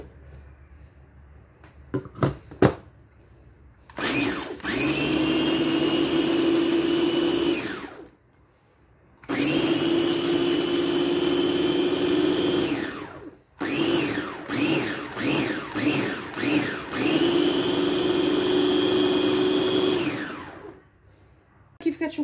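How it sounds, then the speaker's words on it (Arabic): Electric grinder whirring in three loud bursts, with brief pulses in the middle burst, as biscuits are ground with three spoonfuls of melted butter for a pistachio cheesecake basbousa base. "ها هي 3 المعالق ديال الزبده ذوبتهم، وغادي نعاود نطحنهم"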